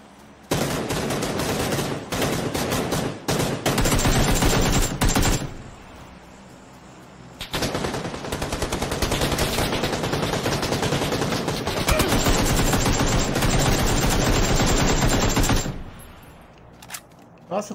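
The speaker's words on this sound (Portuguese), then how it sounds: "tô atirando neles." Bursts of automatic rifle fire ring out in PUBG on Xbox One X, long loud volleys broken by short pauses, with players talking over the shooting.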